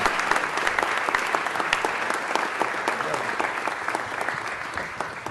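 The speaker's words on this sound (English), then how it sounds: "Let's give Mr. Englander a round of applause." Audience applause fills a city council special meeting hall, a steady dense wash of many hands clapping close and loud throughout, with faint crowd murmur beneath.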